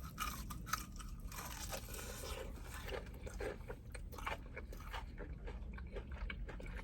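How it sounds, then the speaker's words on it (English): Crunchy bites and chewing of pickle fried chicken, a run of crisp crackling crunches close to the mic, steady and fairly quiet, with no talking. "I want to see if it has the ultimate crunch."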